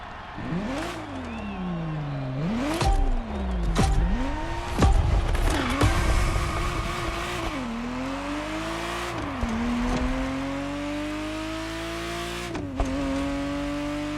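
Ferrari Testarossa driving in The Crew Motorfest video game: an engine rising and falling through repeated revs and gear shifts, with sharp changes and tire noise, then settling into a steady high-pitched drone, loud and close with no talk.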